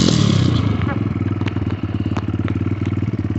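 A 250cc Xmotos dirt bike with a fan boosting its air intake roars close and loud, its engine pulsing in rapid, revving bursts and clattering mechanically throughout.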